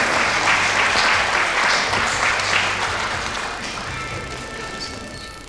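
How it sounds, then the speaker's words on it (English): An audience at a UNESCO hydrology program 50th anniversary ceremony claps for the speaker giving closing remarks, a full, dense burst of applause that slowly fades. "A round of applause for Prof."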